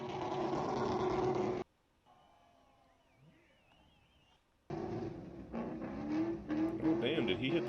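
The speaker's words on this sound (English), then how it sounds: "Is that Ishmael driving that truck?" A truck does burnouts at the SEMA show, its engine revving and tires roaring in loud bursts, broken by a quieter gap. People talk over the noise.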